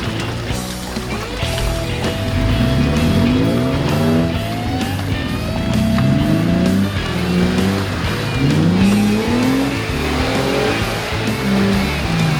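A heavily loaded Chevrolet Suburban weighing over 9,000 pounds revs hard while churning through deep mud off road, its engine note rising and falling in repeated surges with wheelspin and splashing, loud and close throughout.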